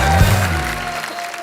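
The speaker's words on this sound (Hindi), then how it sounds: "परी के लिए जोरदार तालियां।" Studio audience applause on a comedy talk show: a short, loud wash of clapping from a large crowd, continuous, with a sustained musical tone underneath.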